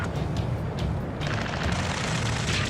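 Dense, continuous gunfire and booming explosions fill a combat scene in the video game Ace Combat 7, loud and sustained throughout with sharper bursts layered over a heavy rumble and no voices.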